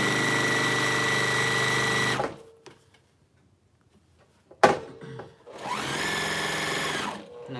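A sewing machine stitches binding onto a Churn Chain quilt in two loud, steady runs, separated by a quiet pause with a few soft clicks and a sharp thunk as the needle is set down before sewing resumes.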